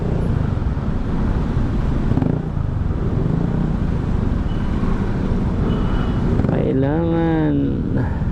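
Steady road traffic noise in heavy, slow-moving city traffic, a constant engine and roadway rumble with wind buffeting, and a horn or siren-like tone near the end.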